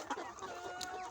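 Fifteen-week-old chickens on a poultry farm cluck softly in a brief burst, faint and close together, with no voices.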